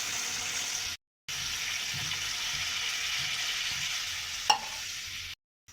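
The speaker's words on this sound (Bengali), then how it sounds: "টমেটো কষানো হয়ে গেছে, এখন পানি দিয়ে দিব এর মধ্যে।" Water is poured into a tomato and spice mix frying in a pan, giving a steady hissing sizzle with a brief sharp splash near the end.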